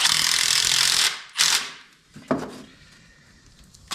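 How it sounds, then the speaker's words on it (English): A seized bolt on a small radial engine is wrenched until it snaps off: a loud grinding, ratcheting burst for about a second, then a few sharper creaks and cracks that fade into quiet. "Nope, twisted the bolt off."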